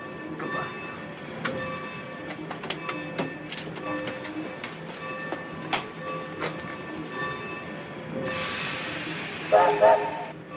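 Rumbling railway noise with clicks and clatter, sharp metallic knocks scattered throughout, and a brief hiss near the end, with voices faintly mixed in.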